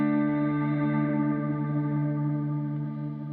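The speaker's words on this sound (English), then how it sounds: "So swell means it's like an auto swell." Guitar played through a Meris LVX delay set to auto swell dynamics, giving a steady, sustained chord with soft echoing repeats and a smooth, chorus-like shimmer that fades slightly toward the end.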